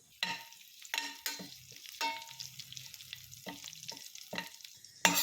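Mustard seeds, dals and dried red chillies tempering in hot oil on a low flame: sharp bursts of crackling and spattering at irregular intervals, close up, with quieter sizzling between the pops.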